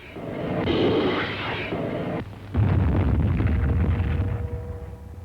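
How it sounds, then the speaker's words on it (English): Rockets exploding on invasion beaches during a World War II amphibious landing in the Philippines, a loud, continuous roar of blasts with a sharp drop near the middle before the rumbling bombardment surges back even heavier. "rockets were used to soften up the beaches"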